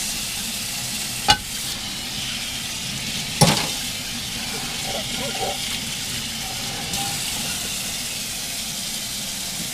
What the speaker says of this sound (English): I'm gonna have to give that a stir in a second